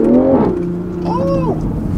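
A 2020 Toyota GR Supra engine revs in first gear, a loud close rising and falling blip of engine tone followed by a steady idle drone.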